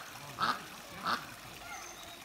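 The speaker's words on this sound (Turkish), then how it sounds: "Ördekler falan var, onları çekeceğim size şimdi." Two short, fairly loud quacks from ducks on a pond, about half a second apart, followed by quieter outdoor background.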